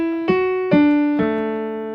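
Three clear piano notes struck one after another, each ringing and decaying, form a short phrase, played solo and close.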